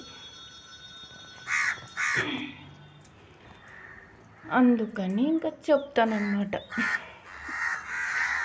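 Crows caw several times in a loose burst, fairly close, while someone talks on and off.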